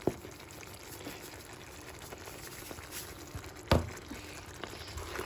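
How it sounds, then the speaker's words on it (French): Mushroom cream sauce stirred slowly in a pan, a faint, steady bubbling simmer with a few soft scrapes and one sharper knock of the spoon, close and quiet. "Et je mélange tranquillement"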